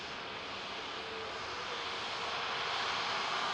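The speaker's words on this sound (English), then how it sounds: "the Star Alliance of Turkish Airlines now continuing. It's taxi to" Turkish Airlines airliner taxiing at Manchester Airport, a steady broadband engine roar holding level throughout, slightly rising toward the end, with no voices.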